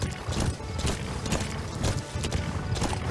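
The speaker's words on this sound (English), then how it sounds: "D-Horse doesn't know how to jump correctly through some stuff" Horse hooves clip-clopping in the Metal Gear Solid video game, a steady rhythmic trot that is fairly loud and close, with a faint whinny in the mix and no talk.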